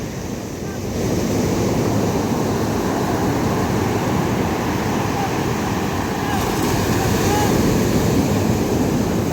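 Ocean surf rolls in steadily, a dense, continuous wash of breaking waves heard up close with wind buffeting the microphone throughout and no pauses.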